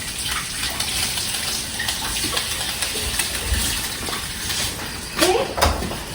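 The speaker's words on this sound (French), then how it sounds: "Je rince les aubergines." Tap water runs steadily as aubergines are rinsed, a close continuous gush with a few splashes and clunks toward the end.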